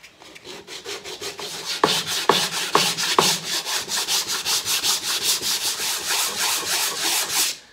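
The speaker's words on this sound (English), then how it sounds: "I changed the direction that I'm sanding, you know, circular motion" Hand sanding of wooden sideboard skirt pieces, a steady run of rhythmic, close scratchy strokes across the wood with a few sharper knocks partway through, carrying on without any speech.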